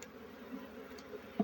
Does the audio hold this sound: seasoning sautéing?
no